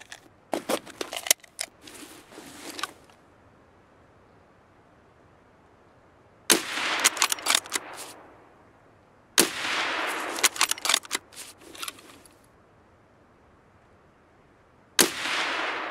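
Bursts of gunfire in Escape from Tarkov crack out in clustered volleys separated by quiet pauses, sharp and fairly close, with rapid shots rattling in each burst.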